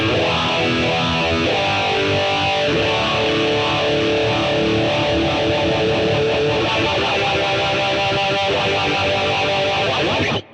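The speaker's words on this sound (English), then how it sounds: "another obvious one is a phaser, which sounds like this" An electric guitar plays through a sweeping phaser effect, its tone whooshing and swirling continuously as the notes ring out, then cutting off abruptly at the end.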